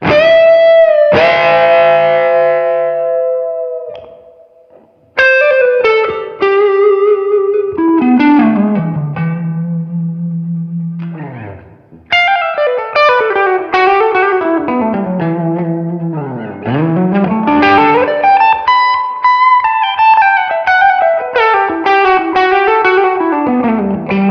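Electric guitar through a boutique-style overdrive on a Line 6 HX Stomp XL plays slow, ringing chords and bending notes, with long sustain and a warm, gritty edge between short pauses.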